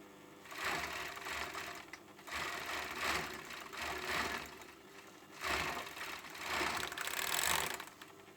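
Overlock sewing machine running over a hoodie hem, steady mechanical whirring in several bursts with brief pauses between runs, close and fairly loud with no talking.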